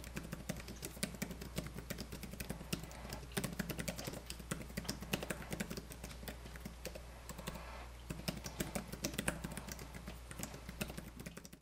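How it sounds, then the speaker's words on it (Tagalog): Continuous rapid typing on the detachable keyboard of a POCO Pad tablet, with dense close-up key clacks and taps running steadily throughout and no voices. "konting keyboard sound test tayo."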